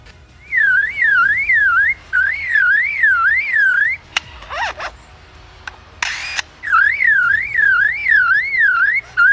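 A lyrebird imitates electronic car lock and alarm chirps: repeated warbling beeps in bursts, broken by sharp clicks and a short burst of noise, loud and close.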